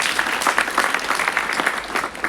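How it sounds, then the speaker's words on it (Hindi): An audience at a school soft-skills seminar for teenage girls applauds a student, a dense, steady burst of clapping from many hands filling the room. "ताली बजाओ उस बेटी की।"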